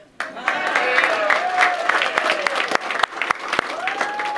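Applause for U-14 baseball champions in Aruba, a burst of clapping that starts abruptly and continues steadily at close range, with a few sharp louder claps and voices talking underneath.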